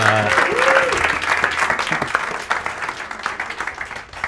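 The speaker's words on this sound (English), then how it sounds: "Give a massive applause for none other than Andrew Smith." An audience at a startup networking event bursts into sustained applause and cheering for a guest speaker, loud at first and then thinning into scattered claps, with a voice briefly heard at the start.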